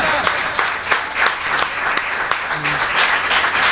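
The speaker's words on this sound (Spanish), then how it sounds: "Dale esas palmas. A ver, dáselas." A church congregation claps in a quick, even rhythm during a sermon, the sharp repeated claps dense and close, with voices faintly mixed in.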